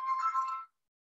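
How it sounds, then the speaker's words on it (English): A mobile phone ringtone plays briefly during an indoor talk, a short, faint electronic ringing phrase lasting under a second before cutting off into silence. "That's my phone."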